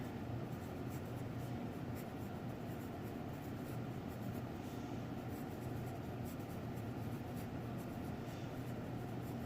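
A pen or pencil writes the names of two-dimensional shapes on paper, producing a steady, faint scratching that runs continuously at close range.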